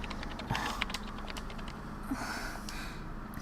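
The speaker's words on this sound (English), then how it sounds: "Kuruzu booted up the PC and started to tap at the keys." Computer keyboard typing from the visual novel game Chaos;Child, a steady run of quick, light key taps close up over a faint background hum, with no voices.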